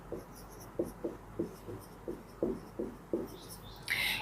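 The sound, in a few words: writing on a board or paper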